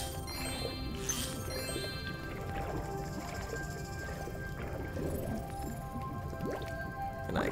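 Underwater ambience in the Spyro Reignited Trilogy video game: a continuous muffled bed of watery drips, squishes and bubbling plops at moderate loudness, with soft tonal game music beneath and no talking.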